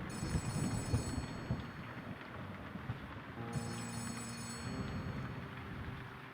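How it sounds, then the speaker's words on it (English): A telephone rings in the Letter Lost game, its sustained electronic tones entering partway through over a continuous rumbling ambience. "Phone's ringing."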